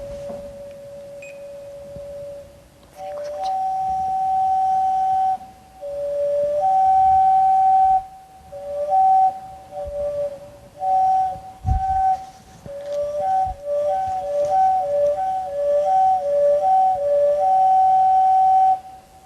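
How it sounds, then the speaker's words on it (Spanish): A Maya clay pitch-jump whistle sounds a series of short tones that jump between two pitches, with a few sustained notes and a quick, irregular rhythm. "Por eso mismo Radcliffe denominó este instrumento como pitch jump whistle. Tratemos de escuchar este"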